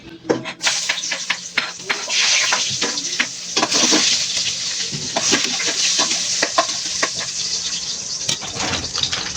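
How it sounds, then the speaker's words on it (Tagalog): Garlic and onion sauté in a hot pan with a constant close sizzle, broken up by repeated scraping and clinking from a utensil stirring the pan. "Magisa na po tayo guys. Bawang at sibuyas."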